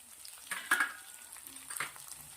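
Green chillies sizzle in hot oil with garlic and ginger for baby corn Manchurian, a faint steady frying hiss broken by a couple of close, brief spatula scrapes and clinks.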